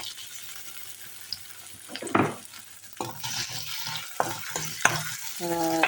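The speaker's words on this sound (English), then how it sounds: "I've taken about a tablespoon of oil and diced potatoes and just putting the potatoes into this oil to fry them a bit" Diced potatoes drop into about a tablespoon of hot oil and fry, a close sizzle broken by clattering taps and scraping stirs that build toward the end; no talk.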